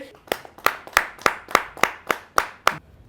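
Applause at a Hindi poetry recital (kavi sammelan): about nine sharp, evenly spaced claps in a steady rhythm, close and loud, with no talk over them.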